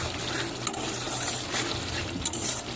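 Spice paste fries in a hot pan for fish curry, giving a steady close sizzle and hiss with a few faint clinks and stirring sounds.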